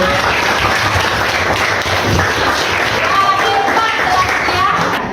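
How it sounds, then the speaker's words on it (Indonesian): Classroom applause for a student named Rahmat, a loud, dense burst of many hands clapping together, filling the room steadily with a murmur of voices mixed underneath. "tepuk tangan untuk Rahmat"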